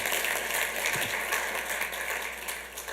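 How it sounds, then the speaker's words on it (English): A council-meeting audience at Santa Ana claps for graduates' families: dense, steady applause heard somewhat distantly, continuous throughout with no talk over it. "let's give their families a round of applause"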